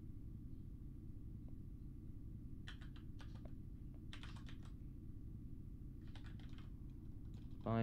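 Bursts of computer keyboard typing come in several quick clusters over a faint steady low hum, fairly quiet and close.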